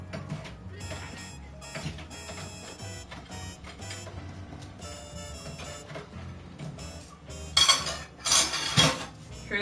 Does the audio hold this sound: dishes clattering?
yes